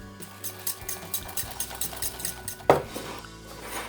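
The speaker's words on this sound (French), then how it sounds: "Je mélange. Je la travaille pendant une trentaine de secondes." Hazelnut cream is mixed with flour, cream and rum in a bowl for a tart filling, giving close, busy utensil scrapes and clinks with one louder knock near the end.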